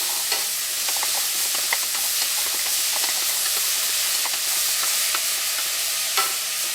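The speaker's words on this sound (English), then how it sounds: "you add in the carrots. stir it in." Carrots stirred into a pot of carrot coriander soup base, giving a steady hissing sizzle with soft scraping clicks of the spoon scattered throughout, close and even, with no talking.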